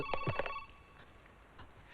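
A telephone bell rings in a few quick bursts at the start, then stops, leaving faint room tone.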